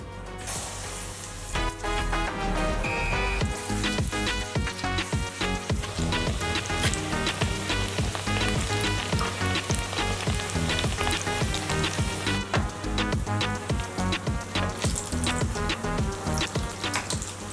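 Food sizzles and crackles steadily in a hot pan, a dense, continuous spattering hiss that stays loud throughout with no talking.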